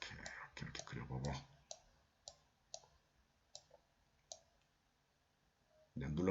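Several sharp, isolated clicks of a computer mouse being pressed, evenly spaced and fairly faint, with someone talking at the start and again at the end.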